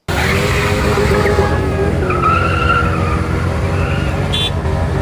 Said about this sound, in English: people doing burnouts at car meets